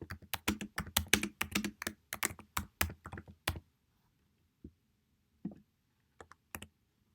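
Rapid bursts of keystrokes on a computer keyboard clatter close and crisp, a flurry of clicks followed by a pause and a few scattered, isolated taps as a short caption is typed.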